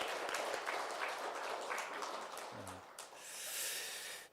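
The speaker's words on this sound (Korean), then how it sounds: "우리 박수로 한번 환영하겠습니다" A church congregation at a worship service claps to welcome visiting family members, a soft, even wash of many hands clapping together for several seconds.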